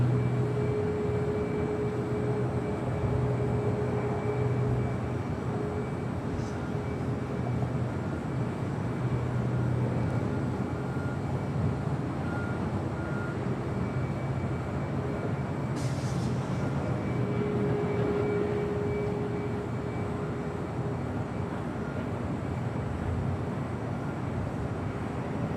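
A steady, continuous jet engine roar from an airliner arriving at Los Angeles International Airport, sustained and even throughout, broadband and fairly loud with faint tonal whines.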